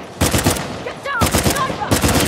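Gunfire from a sniper in Uncharted: The Lost Legacy comes as loud, broadband bursts of shots in two or three clusters, close and sharp, with faint voices between them.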